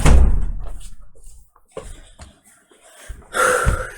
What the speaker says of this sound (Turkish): dışarıda kapatayım şu kapıyı.